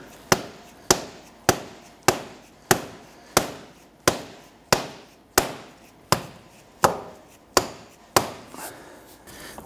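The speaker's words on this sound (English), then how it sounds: "Use a rubber mallet or dead blow." A rubber mallet strikes a CV axle about a dozen times in a steady, evenly spaced rhythm, driving it into place on the left front of a 1992-1996 Toyota Camry. Each blow is a sharp, close knock with a short decay.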